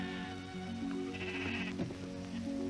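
Several sheep bleat in overlapping, wavering calls, fairly close and continuous, with no talking.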